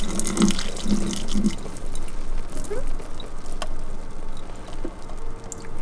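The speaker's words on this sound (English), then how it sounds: "I'm scared to dump all the noodles into the sink." Hot pasta water pours from a pot through a clip-on strainer into a kitchen sink, a steady broadband splashing rush that carries on for several seconds with small gurgles and clinks near the start.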